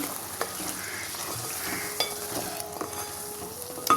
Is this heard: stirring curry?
yes